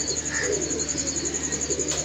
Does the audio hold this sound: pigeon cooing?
yes